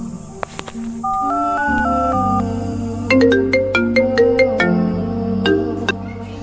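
A loud, melodic phone ringtone plays alone, a short tune of bright repeating electronic notes over a sustained low tone.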